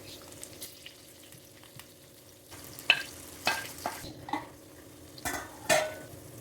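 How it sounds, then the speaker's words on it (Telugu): Green chillies frying in a pan for a chutney, a soft low sizzle with intermittent louder scrapes and clinks of a utensil against the pan, fairly quiet and close. "పచ్చిమిరకాయలు ఇలా ఫ్రై అయితే సరిపోతుంది"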